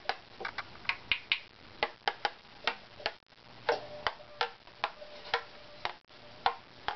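Knuckle taps on a violin back plate being graduated, a series of about fourteen sharp, close wooden knocks in an uneven rhythm, each with a short resonant ring, with a faint sustained tone lingering under the later taps.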